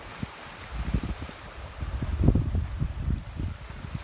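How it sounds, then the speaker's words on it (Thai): Gusty wind buffets the microphone in low rumbling bursts, with strong rolling surf and waves churning underneath on an open seashore in Rayong, Thailand. "อาจจะได้ยินเสียงลมนะคะ เสียงคลื่นนะคะ เพราะว่าน้ำทะเล คลื่นแรงค่ะ แล้วก็ลมแรงด้วยนะคะ"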